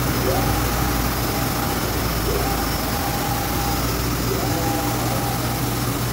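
Epson flatbed printer running a print on plywood, a steady machine drone with a carriage movement repeating roughly every two seconds, close and continuous with no talk.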